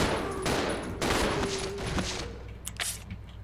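Billy fires on zombies in the Resident Evil 0 video game, several loud, close gunshot bursts in quick succession, then sharper scattered shots trailing off near the end.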